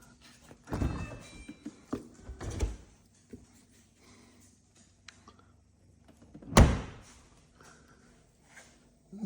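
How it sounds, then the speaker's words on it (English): A Samsung Bespoke refrigerator door opens and shuts with soft thunks, a pop and a sharp close near 6.5 seconds. Quiet gaps separate the sounds, and there is no talk. "I'm going to open this door, and when I close it, that pops out."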